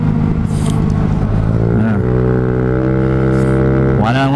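Honda Ruckus scooter engine running steadily at about 45 mph, a loud, close, continuous drone that rises in pitch near the end as the throttle opens, with wind rush throughout.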